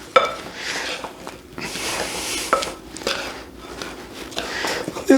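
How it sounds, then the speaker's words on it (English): Raisins and dry ingredients such as flour being stirred in a bowl for Irish soda bread, soft scraping and rustling strokes in uneven bursts with small clinks, fairly quiet and close. "we'll stir those around in there"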